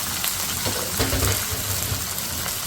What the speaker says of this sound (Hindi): अब हम इसमें डालेंगे कलेजी जो हमने वॉश कर लिया अच्छी तरीके से